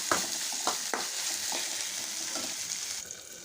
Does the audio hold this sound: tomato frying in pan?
yes